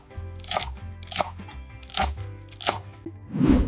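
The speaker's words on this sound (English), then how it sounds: "These green onions are incredibly fresh. Let's chop them up for our dish." Fresh green onions chopped with a knife on a board, giving five crisp, evenly spaced crunchy cuts about half a second apart, close and clear, with the last cut landing heavier and fuller.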